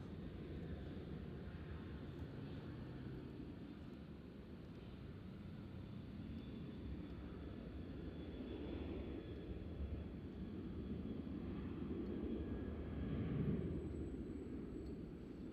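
Airliner departing Nashville International Airport on a windy day, a steady broad engine roar rising gently toward the end, continuous and fairly distant with wind noise, no talking.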